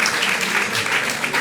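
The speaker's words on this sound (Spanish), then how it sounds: "Se queda bien aplaudido aquí." An audience at a rural women's congress applauding, a dense burst of clapping from a crowd, steady and fairly loud for a brief moment.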